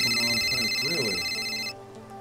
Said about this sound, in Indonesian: Joy mendapat telepon dari Monprank.